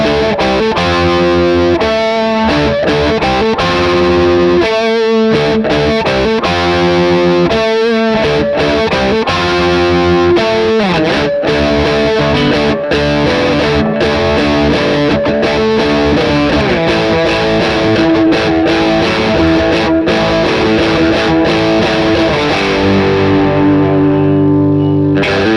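Electric guitar run through a PedalPCB Pharmacist DIY pedal with mids and gain cranked, giving a loud, honky, distorted tone with strummed chords and riffs that ring out near the end.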